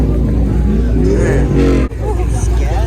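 A Honda Type R revs loudly at a car meet, its engine drone steady and close with a brief dip near the end, while people talk and chatter around it.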